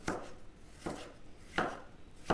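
A knife chops through fruit on a board in four evenly spaced, crisp strokes, close and clear with no talking.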